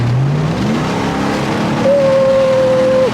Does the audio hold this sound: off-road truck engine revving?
yes